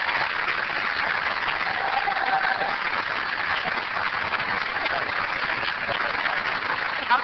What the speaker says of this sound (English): you need to give them a round of applause because they have worked